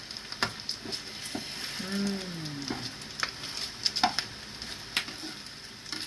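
An omelette fries in hot oil on an electric stove, giving a steady soft sizzle with scattered crackles and a few light utensil clicks, close and moderately quiet, with no talking.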